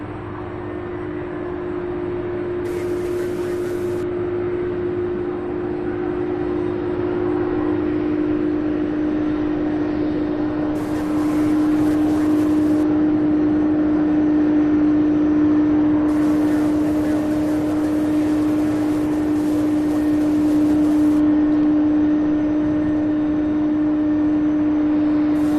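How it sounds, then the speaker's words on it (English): An Airbus A300 airliner taxis and turns at Louisville International Airport with a steady, distant engine drone that swells a few times in broadband rushes, no voices. "that A300 is going to make that right turn"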